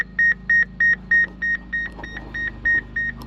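A round baler's in-cab monitor beeps repeatedly in a regular rhythm, about eleven short, clear tones over a low background hum, with no talk over it.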